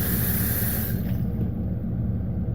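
Cold water runs steadily from a tap while a homemade mud jug is rinsed, a continuous rushing hiss that shifts in tone partway through.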